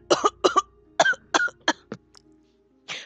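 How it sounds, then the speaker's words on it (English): A video game character's burst of rapid, harsh coughing, six or seven hacks in quick succession, close and loud, tapering off before one final cough. "As he handed it back to Soma, Okita immediately keeled over and began coughing violently."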